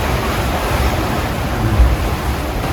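Steady wind noise and washing waves surround a sailboat under reefed sail, a continuous broadband rush with a brief swell of low buffeting near the middle and no voices.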